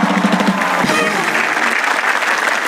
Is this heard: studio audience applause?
yes